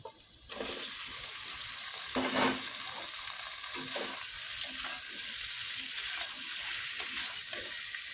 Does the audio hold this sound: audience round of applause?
no